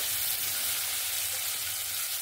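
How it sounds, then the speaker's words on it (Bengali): Prawns fry in hot oil for a jackfruit and prawn curry, giving a close, steady, continuous sizzle that holds at an even level throughout, with no voices. "এখানে আমার চিংড়ি মাছটাও ভাজা হয়ে গেছে।"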